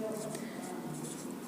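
Chalk or marker scratching across a board during a Class 12 physics lesson on Gauss's law, a steady close scraping stroke over faint room noise without speech.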